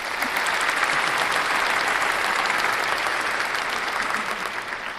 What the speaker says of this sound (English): deserves a clap.